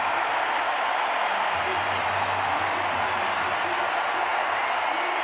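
A German stadium crowd cheers and applauds for a javelin gold at the Munich 2022 European Championships, a dense sustained roar of clapping and shouting filling the space, with a commentator's voice audible over it.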